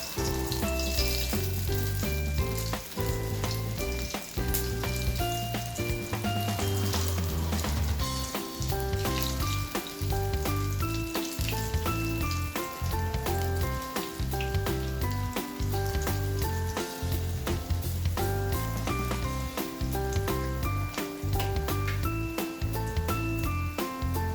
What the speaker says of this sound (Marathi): मी एक एक वडी तेलामध्ये फ्राय करून घेऊ